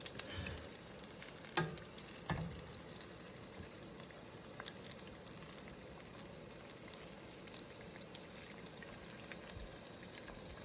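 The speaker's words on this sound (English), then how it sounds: "They're frying nicely." Apple fritters fry in hot oil with a soft, continuous sizzle and scattered pops, fairly faint and close, with occasional clatter from turning them and no talk.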